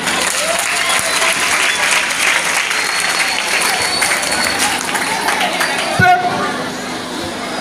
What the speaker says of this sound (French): Alors nous pouvons applaudir pour nous-mêmes.